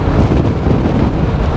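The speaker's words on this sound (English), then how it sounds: "It's getting really windy." Strong wind roaring across a microphone while riding a motorbike on Phu Quoc Island, a loud steady buffeting rush with no voices.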